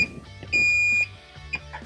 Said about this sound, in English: Now you hear the alarm as well as see on the LED where the leak is reporting.